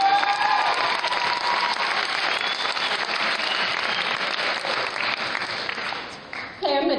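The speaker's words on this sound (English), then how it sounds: "Let's give them another round of applause." Audience applause fills a high school auditorium after a world music concert performance, a steady dense wash of many hands clapping that thins out near the end.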